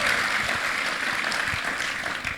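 Church congregation clapping together for the Lord during a revival service in Ambon, a steady dense roar of applause throughout without speech.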